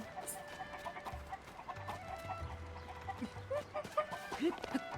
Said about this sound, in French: Suivons les poules.